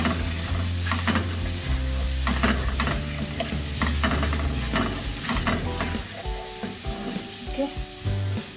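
Ginger and green chili frying in a pan while being stirred, a loud, steady sizzle with scraping and clattering of the spoon against the pan, heard up close without voices.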